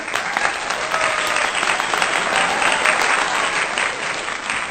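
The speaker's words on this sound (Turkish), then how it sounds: "Çocuklar alkışlar mısınız arkadaşlarınızı?" Children in a classroom clap for their classmates after a song, a loud, steady burst of many small hands that continues evenly throughout.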